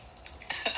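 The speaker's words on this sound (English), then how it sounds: "I just was in the middle of trying to hold back a cough" A stifled cough held back in the throat, a short muffled burst followed by a second rougher push of breath, close and alone with faint room hiss.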